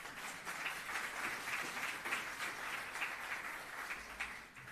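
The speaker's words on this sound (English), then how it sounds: "Please give a round of applause for our online participants" Steady applause from a ceremony audience at a UN Day flag-raising event in Jamaica, faint and distant, with even clapping throughout and no voices.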